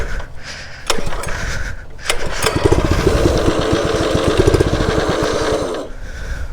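A mini bike's small petrol engine warming up on a full tank after being choked, a loud, buzzing, pulsing putter that starts in short bursts and then runs steadily and close, with no talk over it.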